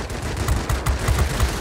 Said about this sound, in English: it seems like the guns are doing fine